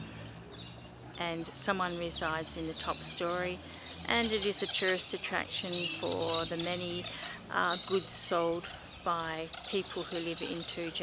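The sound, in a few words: birds chirping in the background outdoors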